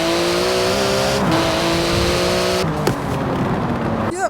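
A Porsche GT2 RS in Forza Horizon 4 revs its engine loudly and close up, a sustained droning roar with rising pitch sweeps and a sharp blip near the end.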